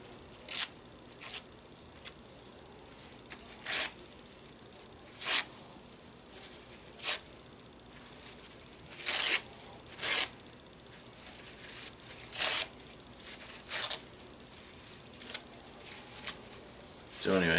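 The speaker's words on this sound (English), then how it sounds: "we're going to take some napkin, and all we're going to do is just tear it" A paper napkin is torn into random pieces by hand, giving a series of short ripping bursts spaced every second or two over a quiet background.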